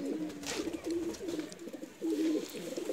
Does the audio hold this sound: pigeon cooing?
yes